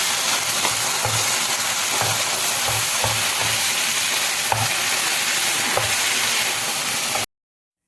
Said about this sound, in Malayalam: ഉരുളക്കിഴങ്ങും മസാലയും എല്ലാം കൂടി നന്നായിട്ട് യോജിച്ച് വരുന്നത് വരെ ഇളക്കി കൊടുക്കുക